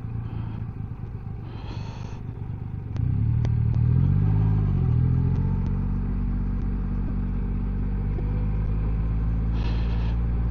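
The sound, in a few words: Triumph Rocket 3 motorcycle engine while riding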